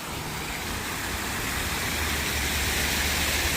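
Fountain pool in Transnistria splashing on a hot day, a dense, steady rush of falling water that stays loud and unbroken throughout, with no voices.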